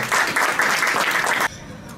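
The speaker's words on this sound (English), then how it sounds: "Let's give Dr. Fiona Martin another round of applause" An audience at a political press event applauds, with dense close clapping for about a second and a half that then stops abruptly and leaves a quiet room.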